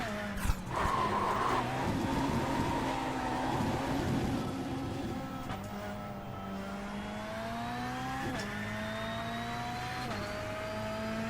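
Rally car in a racing video game with a sequential handbrake setup, engine droning steadily with tire skids and gear changes, no talk over it.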